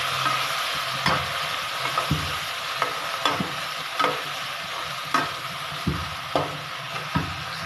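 Onion and tomato frying in a pan for an aloo baingan curry: a bright continuous sizzle with repeated spatula scrapes and knocks against the pan, evenly spaced, close and alone.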